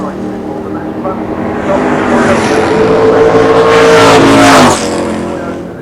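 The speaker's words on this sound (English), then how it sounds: "So it's John Evans, small block at full power in this little Celica." Small-block Chevrolet engine in a Celica drag car at full power at a Santa Pod drag racing meet, a loud roaring run that builds and swells toward a peak before cutting off abruptly, then fading.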